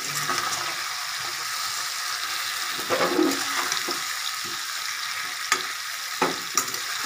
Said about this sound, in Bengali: গ্যাসটা কমিয়ে আমি একটু উল্টিয়ে দিচ্ছি।